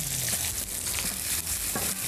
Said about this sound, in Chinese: 煎一煎啲蒜頭先啦